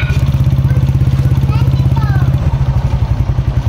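A Honda Click V2 scooter idles up close with a steady, fast, even putter that stays loud throughout and softens slightly near the end.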